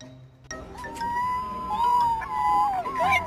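A dog lets out a rising, drawn-out howl that wavers and breaks into yelping warbles, loud and close over a faint background.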